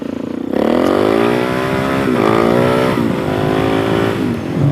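A 470 Stroker motorcycle engine roars up loud and close as the rider accelerates hard into a wheelie, a sustained rising rev with brief gear-change dips and no talk.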